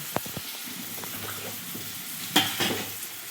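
A spoon stirs and mixes boiled tender jackfruit vegetable in a hot pan in a Konkan village kitchen, giving close scraping clicks over a soft, steady sizzle, with a louder clattering scrape near the end.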